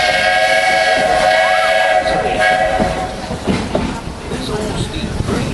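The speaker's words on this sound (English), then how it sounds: "This old steam train needs water to keep going" Walt Disney World Railroad steam train rolling along, loud and close, with a steady whistle-like tone and rhythmic clickety-clack of wheels, fading somewhat toward the end.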